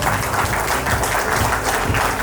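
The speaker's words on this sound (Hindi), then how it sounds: "कृपया आपकी तालियों की आवाज गूंजती रहे" Dense applause from a crowd at a college award ceremony, steady and loud throughout.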